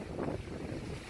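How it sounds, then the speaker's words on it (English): Strong wind buffeting the microphone, a low, rumbling roar with gusty swells and no voices. "Yes, this is windy."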